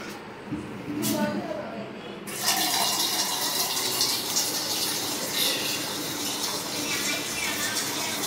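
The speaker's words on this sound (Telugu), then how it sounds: "జొన్న పిండిలో వేడి నీళ్ళు పోసి ఇలా కలుపుకోవడం అన్నమాట" Hot water pours into sorghum flour in a steady, continuous splash that grows fuller partway through and keeps running to the end.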